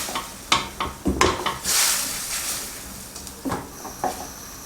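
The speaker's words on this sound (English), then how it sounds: "fine spice powder, sugar, and combine all the ingredients." Spice powder, sugar and other ingredients for mapo tofu are stirred in a pan, giving a string of close scraping clatters and a brief sizzling hiss in between, with no talk.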